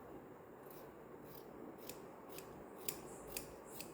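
Scissors snip through fabric while an A-line kurti is cut out near the armhole, giving quiet, close crisp cuts and rubbing sounds with a few sharper snips toward the end.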